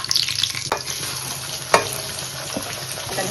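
Whole spices and bay leaf fry in hot oil for a spicy chicken curry, a bright crackling sizzle broken by a few sharp clicks and scrapes of stirring.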